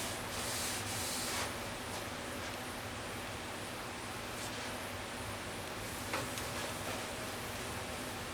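A Scotch-Brite pad scrubs across a cast table saw top, giving a continuous rough, gritty rubbing noise that stays loud and close throughout, with faint ticks and no speech.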